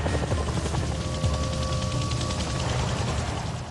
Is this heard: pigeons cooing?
no